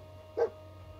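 Dogmeat, the dog companion in Fallout 4 VR, lets out a single short bark at mid-distance over a low steady hum.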